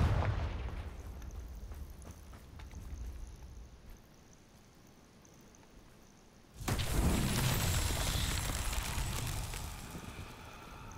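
A blast from the Confringo spell in Hogwarts Legacy erupts suddenly after a quiet stretch, a loud crackling explosion whose roar lingers and sustains to the end.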